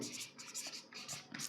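Pen or chalk scratching out notes during a Class 12 history lecture, a quiet run of short rapid strokes with brief pauses between words, and no talking over it.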